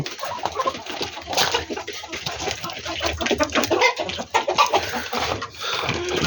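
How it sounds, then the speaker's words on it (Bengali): Several hill chickens cluck and chatter softly and continuously at close range while feeding in the morning, with scattered pecking and rustling and no speech. "এই হইল আমার পাহাড়ি মুরগিগুলো"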